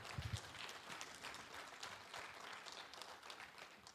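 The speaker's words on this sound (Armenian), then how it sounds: "Ուրախները լավ ծափահարեն։" A church congregation applauds in a steady, fairly quiet wash of clapping heard from a distance, with no clear voices over it.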